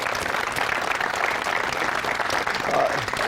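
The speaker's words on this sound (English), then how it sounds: "Give a clap for Nate." A gathered audience claps for a high school football player at a sports combine, a brief burst of dense, steady applause from a crowd nearby, fairly loud, with no break.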